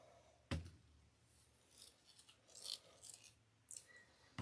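Scissors snipping through wired artificial flower stems while a burgundy and ivory grapevine wreath is assembled, giving a sharp close cut followed by several softer, scattered clicks and rustles, quiet and with no talking.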